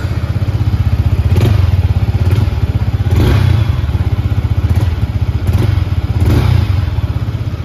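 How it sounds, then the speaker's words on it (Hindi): A 2024 Yamaha MT-15 motorcycle runs with a steady, loud, close exhaust note. Its low engine pulse is broken by several brief revs about every one and a half seconds, with no talking. "तो एक बार मैं आपको इस बाइक का एग्जॉस्ट नोट सुना देता हूँ।"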